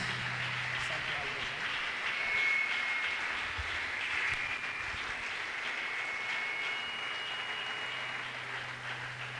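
Church audience applauds and cheers to welcome a prophet onto the stage at an evening revival service, a steady wash of clapping that swells midway, with voices mixed in.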